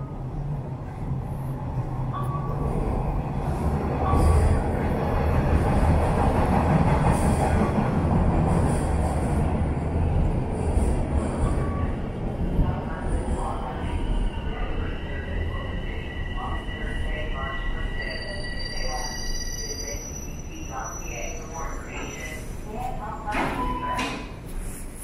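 A subway train rumbles into Dundas Station on Toronto's underground line, growing loud as it pulls in, then squealing wheels and braking tones ring out as it slows, with people talking nearby.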